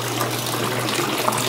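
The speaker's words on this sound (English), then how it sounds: "The loop siphon still isn't broken." Water pours continuously through a loop siphon, draining an aquaponics grow bed in a small apartment with a steady, close, rushing gush and no break in flow.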